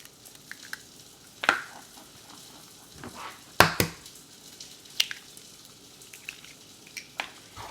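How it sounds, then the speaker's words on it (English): Sausage patties frying in a pan, a quiet low sizzle broken by sharp clacks and knocks of utensils and cookware at irregular intervals, with no voices. "while my sausage is cooking"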